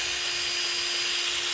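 A power drill bores through a wall, its bit also cutting sideways like a rotary cutting tool while working on a homemade lamp; a steady, loud, unbroken whine holds for the whole moment with no talking.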